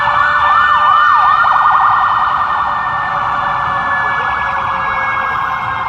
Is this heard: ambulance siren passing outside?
yes